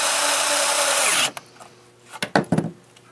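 A power drill drives a screw into a mallet board, first as a loud, steady whine for over a second. It stops, and a few short, sharp bursts and clicks follow. There is no talk.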